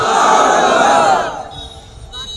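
A large gathering answers with a loud collective shout of the takbir during a religious sermon, the massed voices swelling for about a second and a half before fading, followed by a brief burst at the end.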